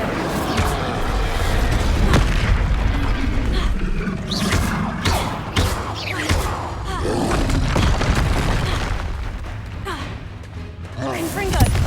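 A Confringo blasting spell in the Hogwarts Legacy video game sets off loud, dense booms and crashing impacts. The explosions pile up almost without a break and stay heavy and close the whole time.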